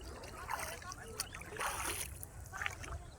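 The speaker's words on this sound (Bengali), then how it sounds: "দেখতে পাচ্ছেন চিনাদি বিলের মাঝখানে আমরা এখন নৌকা রয়েছি।" A boat out in the middle of Chinadi wetland near Shibpur, with a steady rush of water and wind, soft splashes and sloshing against the hull, and muffled voices in the background.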